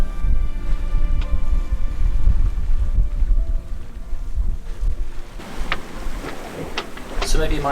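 A sailboat races at nine knots along the UK coast, a loud, constant rush of wind and water against the hull with heavy low rumble and microphone buffeting, joined later by sharper splashes and spray.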